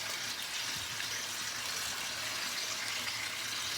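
Water running from a tap into a small basin while vegetables are rinsed, a soft, steady splashing flow heard alone throughout.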